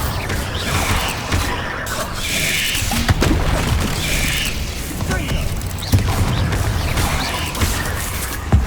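Blasting spell effects in Hogwarts Legacy, with sharp magical bursts and thuds over a busy layered combat backdrop of clanks and whooshes, punctuated by several distinct impacts.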